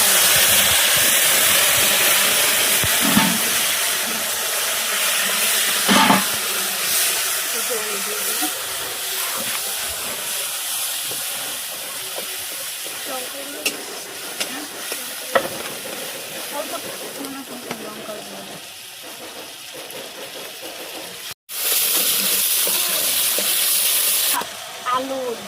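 Hot oil in a pan sizzles and hisses steadily as turmeric-spiced food is poured in, a loud continuous frying roar that dips briefly near the end before resuming.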